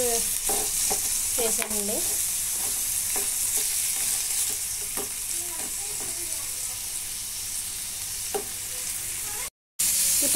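Green chillies, peppercorns and tomatoes fry in a pan for a ridge gourd peel chutney, with a steady sizzle broken by repeated stirring clinks and scrapes. A voice speaks briefly over the cooking.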